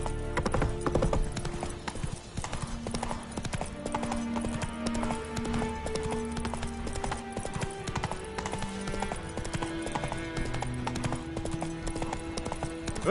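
Hooves of Roach, a horse in the video game Witcher 3: a steady clip-clop gait of hoofbeats, moderately close, over soft game music with an occasional faint vocal sound.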